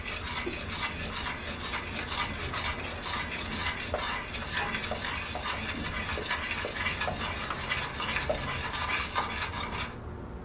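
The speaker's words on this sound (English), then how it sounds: "always remember, keep stirring. You do not want to stop stirring this because it will burn on you." A spoon scrapes and stirs a sweet heat brittle mixture in a pot on the stove, a continuous rasping rub with a steady rhythm and no talk.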